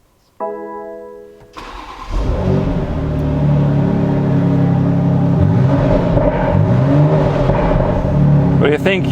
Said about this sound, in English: I'd suggest we fire the engine.